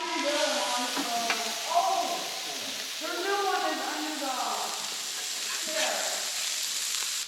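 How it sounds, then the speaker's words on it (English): Burgers frying on a griddle in a garage, a steady loud sizzle with the scrape of a spatula, while several people talk throughout. "we're gonna cook some garage burgers"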